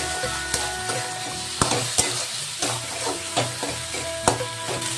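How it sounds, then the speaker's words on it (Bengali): Tomato frying in a pan on a gas stove while cooking lote (Bombay duck) fish, a steady close sizzle broken by sharp clatters and scrapes of stirring, with no talk. "আমি একটু গ্যাসটাকে কমিয়ে দেবো, কমিয়ে এটা ভাজা হোক"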